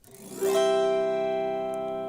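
A chord-button string instrument is strummed once with a chord button held down, giving a bright, sustained chord that rings clearly and slowly fades, close and fairly soft, with no one speaking.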